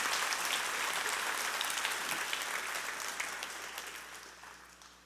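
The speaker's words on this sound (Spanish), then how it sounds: "Podemos darle un aplauso al Señor por eso" A church congregation applauds together during a sermon, a dense, steady wash of many hands clapping that slowly fades toward the end, with no voices over it.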